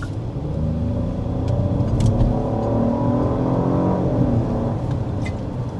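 A 2026 Genesis GV80 with a 3.5 twin-turbo V6 accelerates hard from a standstill, a steady rising engine rumble heard from inside the cabin with no talking.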